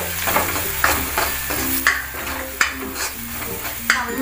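Turmeric and chilli powder being sautéed in a pan for a Kabul chana curry, with a spoon scraping and clinking against the metal in regular strokes over a constant hissing sizzle, close and loud.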